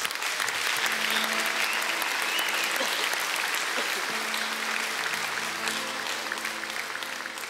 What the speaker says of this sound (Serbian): aplauz, molim